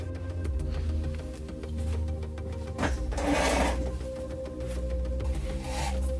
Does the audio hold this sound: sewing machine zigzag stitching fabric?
yes